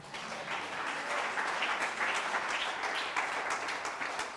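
A church congregation applauds the Lord at a morning service, with steady, full crowd clapping and cheering throughout.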